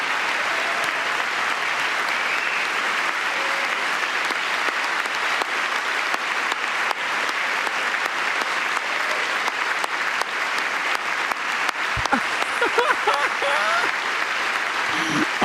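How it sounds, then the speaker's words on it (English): Sustained applause from a gallery crowd, a steady even wash of clapping that continues without a break, with a few sharper sounds near the end. "She's clapping."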